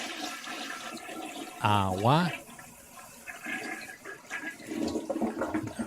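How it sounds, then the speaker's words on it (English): A toilet flushes with a short, loud rush and swirl that fades into refilling water, heard close up while a person talks in the background. "This is the toilet flush."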